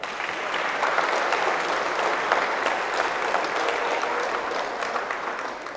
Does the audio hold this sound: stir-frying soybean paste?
no